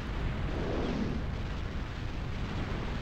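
Nuke explosions from the Total Annihilation Escalation strategy game make a continuous low, rumbling blast wash that stays dense and steady throughout, with no talking over it.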